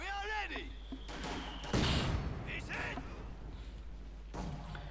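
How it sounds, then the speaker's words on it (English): Mortar shells slam down and thud in a Company of Heroes 2 match, a heavy broadband impact near the two-second mark amid ongoing battle noise, with a further thump toward the end. "the mortar begins ranging in on the building"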